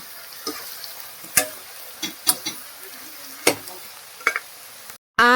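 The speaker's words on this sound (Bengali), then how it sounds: "আর এখানে এখনো ভাজা চলছে" Food frying in a pan in a home kitchen: a steady crackling sizzle broken by sharp clicks and knocks of stirring, close and fairly loud, cut off near the end by a brief different noise.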